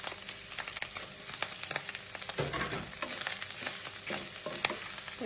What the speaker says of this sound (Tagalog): And cook our minced beef or giniling na